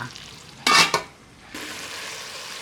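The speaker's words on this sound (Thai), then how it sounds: "เวลาคนเนี่ยคนให้ถึงก้นหม้อ" Goat curry in a pot gets a loud, scraping stir down to the bottom, a brief clatter, then a steady close sizzle and frying hiss carries on with no one talking.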